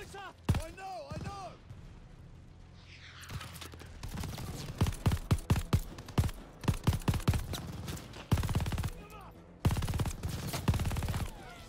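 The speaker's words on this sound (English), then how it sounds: "who's shooting at me?" Rapid gunfire bursts and single shots from the Call of Duty Vanguard campaign crackle loud and dense in irregular clusters, with a voice talking briefly early on.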